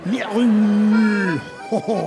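A voice imitating a cow, one long sustained low moo that bends downward, followed by a couple of shorter grunting moo sounds, loud and close.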